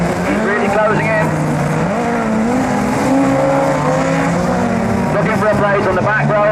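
Rallycross cars racing through a hairpin at Lyneham, engines snarling and revving as they pass, a loud continuous roar with shifting pitch, under an excited commentator talking throughout.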